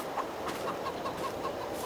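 Chickens cluck in a Farming Simulator 22 farmyard, a steady run of short, evenly spaced clucks over a constant low farm ambience, with no voices.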